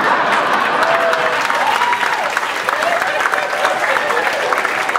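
Audience applause at a comedy show fills the room, a dense, steady wash of many hands clapping with some cheering voices and whistles mixed in, loud and close throughout.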